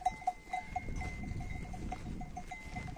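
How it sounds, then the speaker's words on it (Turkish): A flock of sheep walks home through mountain highland pasture, bells clanking in a steady irregular rhythm over soft shuffling of hooves and low rustle. "Koyunlarımız da artık eve dönüş yoluna girdik."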